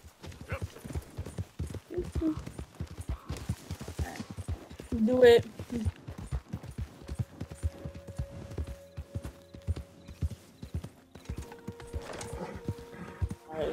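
Horse hooves galloping in Red Dead, a steady run of clip-clop beats through the first half under chatty voices, with a brief whinny and then lighter hoofbeats fading behind talk.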